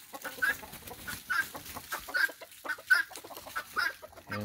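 Hens clucking in short repeated bursts, several birds close by including Polish chickens, with a big mixed-breed rooster's call starting at the very end.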